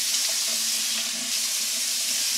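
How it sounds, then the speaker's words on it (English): Lukewarm water runs steadily from a bathroom tap during face washing, a constant close hiss with no pauses. "I just put the water on lukewarm"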